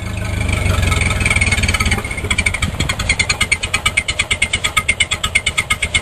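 A 1931 Buick engine cranks and catches, then settles into a steady, rhythmic chugging idle with a rough, mid-pitched pulse, heard up close with no talking.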